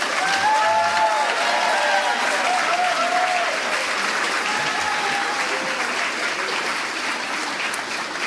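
Sustained applause from a convocation audience at the San Diego Central Library, a dense, steady wash of clapping that stays loud and even throughout.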